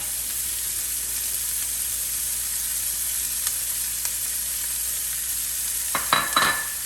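A medium chopped onion hits hot olive oil in a pan for beef ossobuco: a soft, steady sizzle and hiss throughout, with a few faint ticks and a brief burst of louder scraping near the end.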